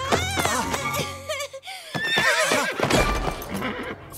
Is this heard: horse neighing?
yes